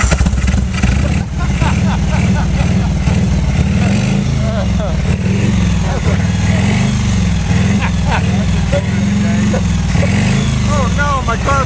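A homemade wood-gas-powered engine on a motorcycle build starts up and runs loudly and steadily, a rough mechanical drone with revving swells, while people talk over it.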